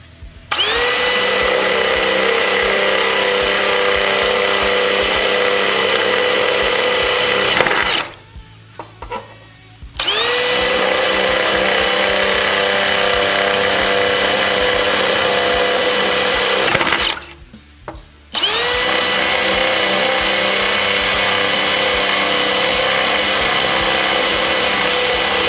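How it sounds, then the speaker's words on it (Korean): A power drill with a dual-use bit boring holes in steel plate, a loud, steady high-pitched whine that runs for several seconds, stops briefly twice, then starts again at full speed. "바로 3단으로 올려서 4구멍 더 뚫어보도록 하겠습니다"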